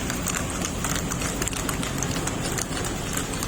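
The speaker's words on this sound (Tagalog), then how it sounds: "Nasakay kami sa kabayo." Horse hooves clip-clopping on a road during a ride in the Vigan area of Ilocos, a steady patter of hoofbeats under continuous street noise, with no talk.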